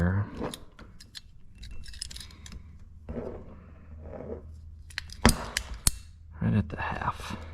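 A hose cut with a cutter on a Hesston 6650 project, a few sharp snips and clicks amid handling noises, fairly close, with quiet rustling between.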